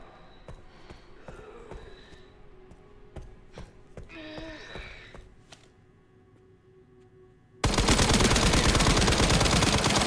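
Gunfire in the video game Resident Evil Requiem: a scattering of sharp shots and quick bursts over game ambience, then a loud, dense wash of noise that fills the final seconds.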